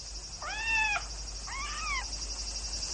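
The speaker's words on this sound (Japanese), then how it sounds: "あれ、猫がいますよ。" A cat meows twice, two clear drawn-out calls about a second apart, heard alone against a steady faint background hiss.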